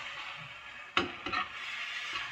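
Mung beans with unpeeled shrimp are sautéed in a pan, a continuous sizzle broken by a sharp metallic scrape and a few clattering stirs of a utensil.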